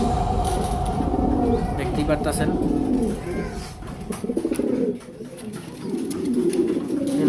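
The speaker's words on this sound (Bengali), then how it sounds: "আমার অনেক পছন্দের একটা নর কবুতর" A male pigeon coos in repeated low throaty phrases at close range in a home loft in Mirpur, Dhaka, while someone talks over part of it.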